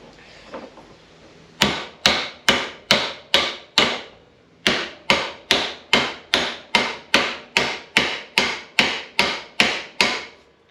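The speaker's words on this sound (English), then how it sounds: "we're going to hit just either side of this, and that's going to start to punch out the bearing" Sharp, evenly paced metallic hammer strikes on a pin punch ring out close up, knocking out a drive shaft universal joint bearing, around twenty blows in a steady rhythm with one short pause partway through.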